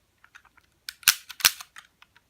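A full-metal Blade Runner Deckard blaster prop (m2019) plays its electronic reload effect: two loud, sharp cracks close together, surrounded by light clicking ticks, heard alone and close.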